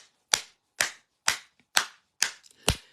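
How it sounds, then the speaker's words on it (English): In a church congregation, six sharp, evenly spaced claps ring out about half a second apart, loud and close, each with a short decaying tail and no voices. "And you see them, they are clapping."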